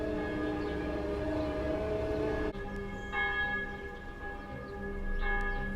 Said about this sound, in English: I'm afraid I've got the builders and the church bells